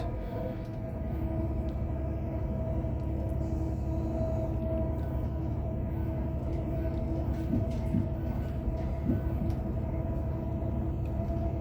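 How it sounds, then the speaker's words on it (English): A steady, continuous rumble of a train running fast, low and even throughout with faint rattles and clicks, heard from inside a carriage of train 185110. "This is going at a good speed, this train is."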